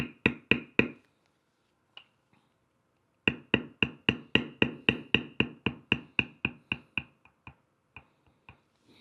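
A metal beveling tool is struck again and again while tooling a horse's nostril into leather, crisp close taps in quick rhythmic bursts: four quick blows, a pause, then a long run of evenly spaced strikes that slowly thins out.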